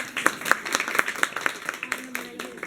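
Audience members at a Hindi general-knowledge quiz competition clap in a brief scattered round of applause, sharp individual claps close by with a faint voice underneath.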